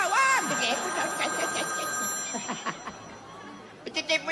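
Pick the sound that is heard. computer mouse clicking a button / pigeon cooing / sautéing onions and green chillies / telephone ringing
telephone ringing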